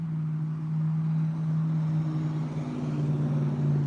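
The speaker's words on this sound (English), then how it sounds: "Oh, and another redneck and his pickup truck." A diesel Ford pickup truck drives past on a quiet rural road, a steady, fairly loud low engine drone that holds throughout with no speech.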